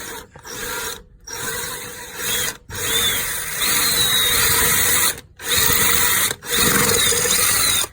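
A power drill spins a screw extractor backwards on a broken lug bolt of a Mercedes W211 E55 AMG, whirring in several bursts separated by short pauses, steady at close range with a slight grinding edge.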